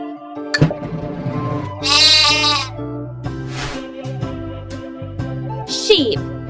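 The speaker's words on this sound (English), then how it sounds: "Sheep." Sheep bleating in a children's animal sounds game app, several wavering bleats in sequence with short musical jingles and chimes between them, fairly loud and close.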